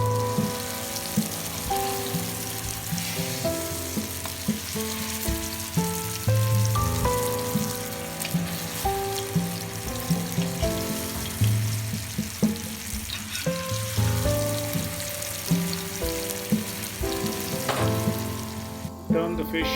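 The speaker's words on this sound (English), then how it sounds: "Once the oil is hot, place the marinated fish slice and cook on" Marinated fish slices frying in hot oil over a medium flame, giving a steady, close crackling sizzle throughout, with music playing underneath.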